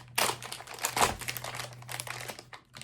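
Crinkly plastic from a First Strike Ration accessory packet being pulled and twisted in failed attempts to tear it open, a close burst of crackling rustles in quick succession under a faint steady hum.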